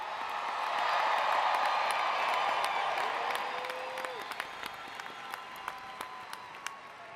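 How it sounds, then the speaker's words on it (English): A graduation crowd at a university commencement applauds and cheers in a broad, sustained roar that swells, then thins to scattered claps and whoops with a brief whistle along the way. "Let's cheer for that."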